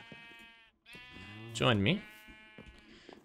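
Sheep in Minecraft bleat loudly in a wavering burst near the middle, with someone talking before and after it.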